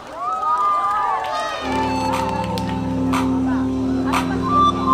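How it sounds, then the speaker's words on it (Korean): Audience at a high school waacking solo dance showcase claps and cheers, loud and close, with shouting voices over it as music starts up underneath. "박수 박수"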